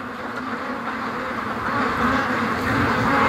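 Muscovy ducks kept as breeders in a flock, a steady bed of soft overlapping calls and rustling that grows slightly louder toward the end, with no talk.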